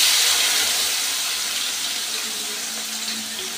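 Chopped onion dropped into hot oil seasoned with bay leaf, cinnamon and cardamom for a mutton curry, giving a steady, loud frying hiss that slowly eases over a few seconds.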